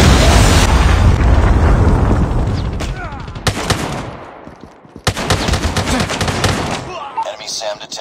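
Loud Call of Duty Mobile Gun Game combat on an iPhone: Predator missile explosions boom and roll off amid sharp machine-gun bursts, with a lull before a fresh volley of rapid shots.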